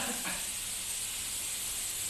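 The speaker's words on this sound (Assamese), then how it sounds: "কুকাৰত চিটি মৰাই দিছে" Steam hissing steadily from a pressure cooker as it releases pressure while cooking pork, a continuous loud broadband hiss that fills the whole moment without pause.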